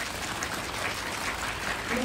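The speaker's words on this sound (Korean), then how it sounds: "박수 한번 보내주세요." Applause from a film screening audience at a Q&A for the Korean film Harbin, a steady, muffled wash of clapping heard faintly throughout the brief moment.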